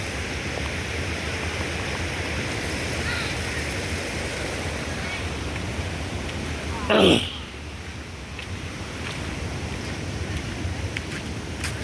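Flood water rushes through a river in Nepal, a steady, dense roar of moving water heard close and continuous, broken only by one brief sharp knock midway.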